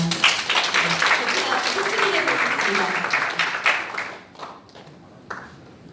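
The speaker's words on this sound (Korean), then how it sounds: "박수 부탁드립니다." Audience applause rings out in a meeting hall at the National Assembly members' building in Yeouido, steady clapping for about four seconds before fading into scattered claps.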